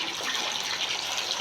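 Water pouring off fish cooking in a pot of oil, a steady broadband gush and splash that holds evenly loud and close for the whole moment, with no voices.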